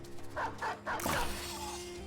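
A dog in the video game Battle Brothers gives three quick, fairly close barks in a row, followed by a brief burst of broader noise as the sounds fade out.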